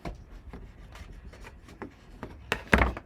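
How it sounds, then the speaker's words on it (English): Paper is burnished onto a Halloween countdown calendar with a series of close, dry rubbing strokes at an uneven rhythm, growing louder and scratchier at the end. "And burnish."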